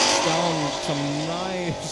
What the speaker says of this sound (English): Nice 11s with quite an impressive burnout.